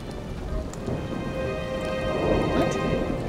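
Steady rainfall patters close by while thunder rumbles low underneath, building slightly louder toward the end, in a stormy scene from the Nancy Drew: Midnight in Salem video game, with no voices over it.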